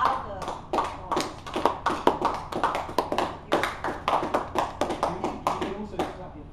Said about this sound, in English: there's a trick for clapping hands, is to cup your hands, and it makes much louder noise